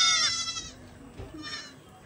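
A goat bleats close by at a resort in Sajek Valley, where a dog is also nearby. One short, wavering bleat comes first, followed by fainter, quieter sounds.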